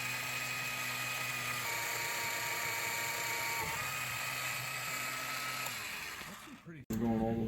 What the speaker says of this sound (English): this little portable drill press is amazing for this kind of work.